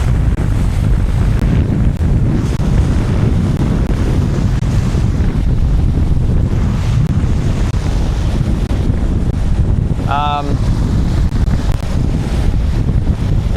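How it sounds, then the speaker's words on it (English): A light, empty river raft slams over whitewater waves, heard as a loud constant roar of rushing water and wind buffeting close to the microphone. "you go up the waves and kind of slam down over and over again"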